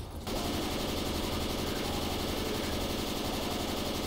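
Left 4 Dead 2 explosive-round gunfire kicking in after a brief pause, a dense, rapid, unbroken rattle of shots that stays steady and fairly loud to the end.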